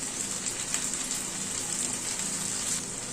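Spice paste frying in a pan while cooking a soya dish, a steady bright sizzle hissing continuously and close up, with no talking.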